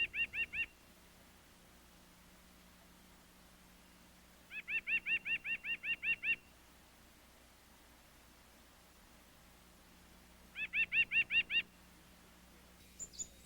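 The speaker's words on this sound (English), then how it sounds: "The white-breasted nuthatch is another bird of the tree trunk niche." White-breasted nuthatch at a backyard feeder in winter, giving rapid bursts of nasal repeated calls in three separated series over a faint steady background hum.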